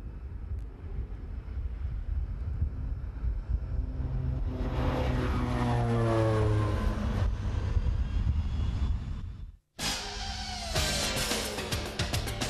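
Propeller airplane carrying team managers and mechanics during the 1991 Dakar rally, a droning aircraft engine that swells and shifts pitch, cut by a brief gap before resuming loudly.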